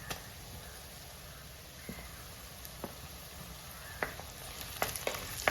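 Onions and chopped tomatoes fry in a pan for a fish curry, a steady even sizzle with sparse sharp pops and clicks that grow more frequent toward the end, nobody speaking.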